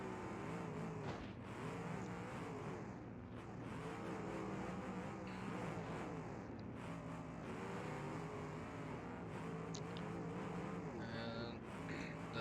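Old Cadillacs in a demolition derby grind and rev in a dense, continuous wash of engine roar and crunching contact, heard at a moderate distance and somewhat muffled, with no clear individual impacts standing out.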